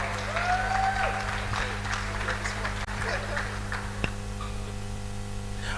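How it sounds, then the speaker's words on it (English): Conference audience applauding a speaker coming up to the stage, a steady wash of clapping that stays fairly even throughout, with a low hum underneath and a couple of brief chirps early on. "Please put those hands together for him as he comes up."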